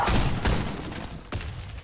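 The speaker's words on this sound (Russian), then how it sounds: "Осторожно, граната!" In a Warface match on a construction-site map, a grenade blast and bursts of gunfire crack through, with three sharp hits spread across the short stretch at moderate loudness.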